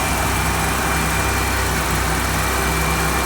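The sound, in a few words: car engine idling a little high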